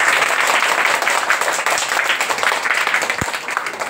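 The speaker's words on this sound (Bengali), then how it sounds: "মানে জোরে হাততালি।" Loud, sustained applause from parents and guardians at a school awareness programme in Dibrugarh, dense clapping filling the whole stretch without a break.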